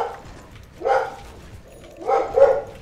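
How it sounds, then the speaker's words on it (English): Two short barks, well apart, mid-loud over a quiet background, from a dog in the Dota 2 game Huskar session. "Dog barking."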